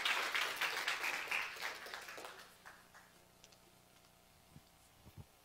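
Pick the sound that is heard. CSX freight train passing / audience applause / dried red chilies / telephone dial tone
audience applause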